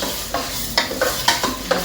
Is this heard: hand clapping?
no